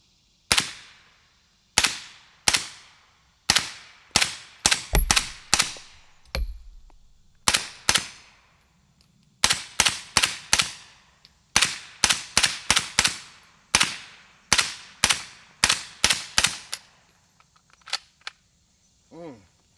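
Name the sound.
suppressed gunfire from Zenith rifle with Liberty Mystic X suppressor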